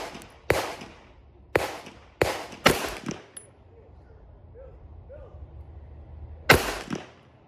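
Several sharp, loud pistol shots from a Canik Mete MC9 Prime at about 7 yards on a range: a quick cluster of four or five reports, a pause with faint background noise, then one more shot.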